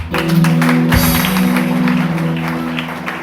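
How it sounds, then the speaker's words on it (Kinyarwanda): Applause at a church gathering, a crowd clapping under a sustained keyboard drone with strong low tones, loud and close, with a sharp knock near the start. "Reka tumukomere amashyi"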